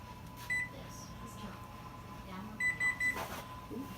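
A kitchen oven timer beeps, a single short beep followed later by three quick beeps in a row, clear and close over a low appliance hum in a home kitchen during a cake baking cook-off.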